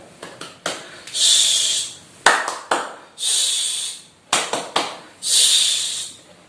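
Children perform a clap routine in three rounds. Each round has several sharp, quick claps followed by a long, loud hushing 'ssst' sound made by voices.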